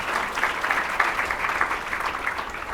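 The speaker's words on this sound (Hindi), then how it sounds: "ताली बजाओ मेरे स्कूल पर" A seated audience claps together in a steady, even burst of applause, many hands blending into a continuous patter without voices.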